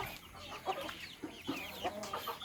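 Chickens in a backyard coop, including a hen with two-month-old chicks, make faint, scattered clucks and soft chirps in the morning.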